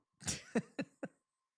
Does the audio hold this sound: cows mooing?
no